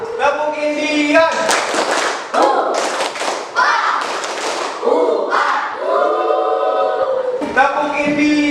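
A school class does the Tepuk Indian clapping routine, with loud chanted voices punctuated by bursts of group claps and thumps, close and energetic.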